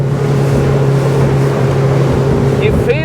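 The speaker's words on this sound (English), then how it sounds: "Wow, she really gets up and goes with this 100 horsepower." A 100 horsepower motorboat engine drones loud and steady throughout at speed, with water and wind rush over the hull and a brief rising whine near the end.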